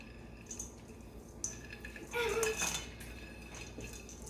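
Cranberries and hemp seeds tipped into a bowl, giving a soft clatter and rustle that swells for about a second midway, with faint clinks of utensils against dishware around it in a quiet kitchen.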